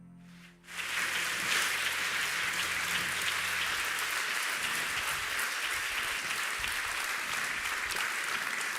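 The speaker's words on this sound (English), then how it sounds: "Once again, a grand round of applause." A large audience at an award ceremony breaks into loud, sustained applause that starts abruptly and holds steady and dense throughout, with no voices on top.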